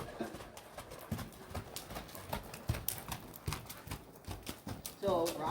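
Horse hooves clip-clop at a steady walking rhythm during a riding lesson, close and moderately loud, with a brief creak near the end.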